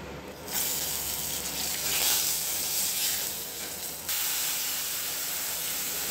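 Curry leaves and whole cumin hit hot oil for a fish curry, a loud hissing sizzle that flares at the start and jumps again near the end as more goes in, with no voices.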